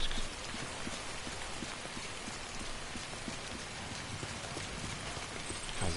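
Timefall rain in the Death Stranding video game, a dense, steady hiss of falling rain with scattered drops pattering on surfaces, even and continuous, with no talking.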